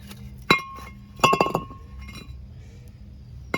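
A metal part drops off the brake assembly of a Mercedes 190 during a repair: one sharp metallic clink, then a quick cluster of ringing clatters, then a single faint clink a couple of seconds later, with no talk.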